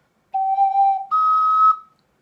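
Two sustained, pure ocarina notes played close and clear, the second held slightly higher than the first, with no other sound around them.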